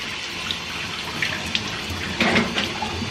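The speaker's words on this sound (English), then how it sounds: "we're going to go ahead and rinse everything out with some nice hot water" Hot water runs and splashes as it rinses parts of a Capralite goat milking machine, a steady hiss with a few brighter splashy bursts.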